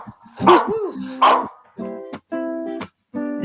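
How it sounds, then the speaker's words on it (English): A dog barking and yipping up close, with two loud howl-like cries followed by several short, tonal, squeaky barks. "Do you hear that doggy?"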